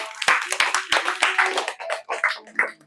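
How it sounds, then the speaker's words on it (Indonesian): A group of Scout participants claps hands in an indoor session, a brisk irregular run of close, fairly soft claps that slows and thins toward the end. "Oke, tepuk tangan ya."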